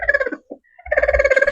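Chickens on a small mixed poultry farm make throaty, pulsing clucks in two close bursts separated by a brief pause with a faint squeak, loud and near with no talk.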